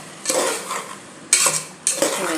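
Finely chopped vegetables for pav bhaji being stirred in a pan with a light sizzle underneath: three distinct sharp scrapes of a spoon against the metal, close and loud, with no voices.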